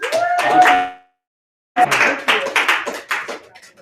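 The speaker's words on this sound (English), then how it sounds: "Let's give Ariel a round of applause. Another round of applause." Audience claps in two bursts at a live self-help event, dense clapping that stops briefly into silence and then resumes, fairly loud and close.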